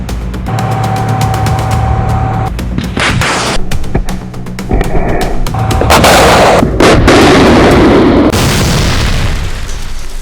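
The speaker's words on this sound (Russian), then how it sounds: "Сначала мы выпускаем ПТУР Атака М по правой БМП." An Ataka-M anti-tank guided missile is fired from a BMPT Terminator at a BMP target. A loud, sustained broadband roar with sharp booming bursts runs throughout, growing heavier midway.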